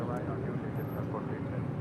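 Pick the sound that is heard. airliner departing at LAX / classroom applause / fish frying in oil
airliner departing at LAX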